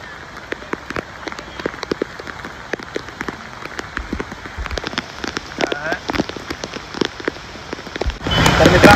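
Rain patters on surfaces during a casual cricket game, with scattered close drops and taps throughout before a sudden heavier downpour surge at the end.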